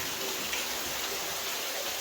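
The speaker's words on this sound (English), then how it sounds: "There's the rain." Heavy rain pours at an old lead mine, a dense, continuous hiss of falling water that stays steady and fairly loud with no voices.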